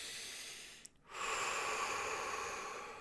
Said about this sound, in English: taking a deep breath in, deep breath out